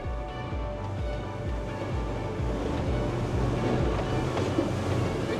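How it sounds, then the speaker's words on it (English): Big ocean waves wash around a boat at sea on a wildlife-watching trip for orcas and great white sharks, a steady rushing surf with rhythmic low thumps of water against the hull and wind noise, no talking. "We got some pretty big waves out here."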